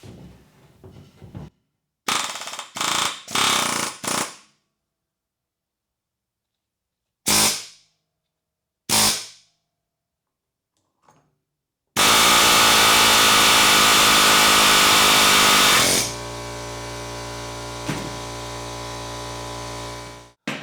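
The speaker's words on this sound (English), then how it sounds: "you're going to push with the air chisel, and you're going to pull on the clutch or pulley itself" An air chisel hammers against a stuck clutch or pulley, firing in several short loud bursts before a long sustained rattling run that drops into a lower, steadier mechanical drone near the end.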